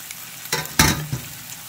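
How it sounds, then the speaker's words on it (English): Bacon fries in a pan being reheated with a continuous hiss, swelling into a few louder bursts of sizzle and spatter, heard up close without voices. "And this was the kind of sizzle we were looking for the first time."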